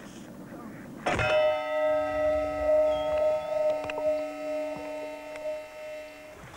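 A single bell stroke rings out with a sharp attack and then a long, sustained metallic hum of steady overtones that slowly decays, with a few faint clicks over the ringing.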